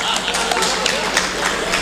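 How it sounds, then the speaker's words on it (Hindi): Audience applause fills a mushaira poetry gathering in Karimnagar, Telangana, a dense, steady wash of many hands clapping at once, continuous and fairly loud throughout with no pauses. "एक बार मुशायरा कमेटी के लिए तालियां बजाइए आप"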